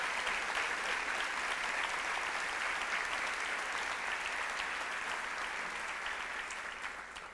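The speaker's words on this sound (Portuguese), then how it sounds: "Você pode aplaudir mais forte ao Senhor?" A church congregation breaks into sustained applause, an even wash of many hands clapping at once that holds steady for several seconds and then fades slightly at the close.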